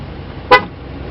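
A 2014 Ram 1500 Sport truck sounds a single short, sharp horn chirp as it locks by key fob, loud and close against a quiet background.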